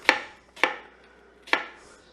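Peeled onion being chopped with a knife on a board, three crisp, close thuds with uneven spacing in a quiet kitchen.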